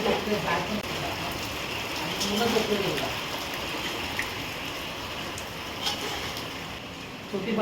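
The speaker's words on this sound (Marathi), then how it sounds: "बाहेर खूप पाऊस पडतोय" Heavy rain pours down outside a village house in Konkan, India, in a steady, dense hiss that lasts throughout, with voices talking underneath.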